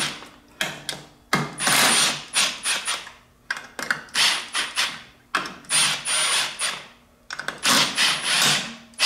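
A hand tool loosens 10 mm bolts on a stock cast motorcycle clutch cover, giving repeated bursts of rapid ratcheting clicks in an irregular rhythm. Short pauses and handling noises fall between the bursts.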